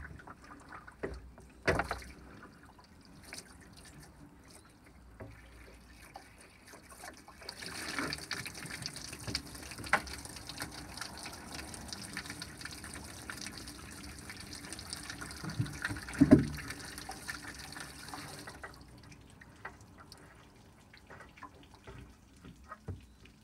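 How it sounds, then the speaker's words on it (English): Water gushes and splashes steadily out through a hose as a leaking water tank drains, a continuous flowing rush that swells louder through the middle stretch with occasional knocks and splashes. "I'm gonna let this finish draining out, or I'm actually gonna pull that hose and let it drain out"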